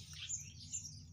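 Young pigeons chirping, a few faint high thin tweets over a low steady background hum, heard close but quiet.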